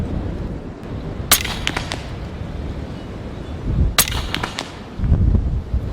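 A Western Rattler .45 Long Strike rifle fires at a target outdoors in strong wind: two sharp, distant cracks a few seconds apart over constant wind rumble.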